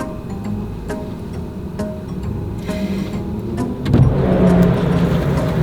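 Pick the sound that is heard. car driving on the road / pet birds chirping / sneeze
car driving on the road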